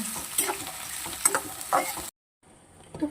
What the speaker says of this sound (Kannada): ಈ ಥರ ಆಯಿಲಲ್ಲಿ ಫ್ರೈ ಮಾಡ್ಕೊಳ್ಬೇಕು.